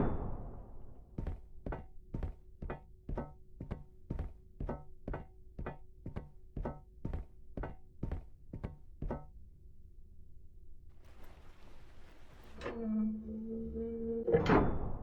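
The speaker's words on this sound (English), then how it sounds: "You must uncouple the safety latches." Safety latches being uncoupled in a video game, a rapid series of about fifteen evenly spaced mechanical clunks and knocks, followed by a rising whir and metallic tone, close with no talk.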